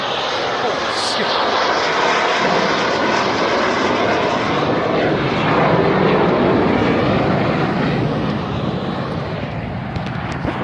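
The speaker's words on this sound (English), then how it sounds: "There's an F-16 fighter jet flying around here." Loud, low-altitude F-16 fighter jet roaring overhead at a truck stop, a sustained broadband jet rumble that swells and peaks mid-pass, with a person talking faintly beneath it.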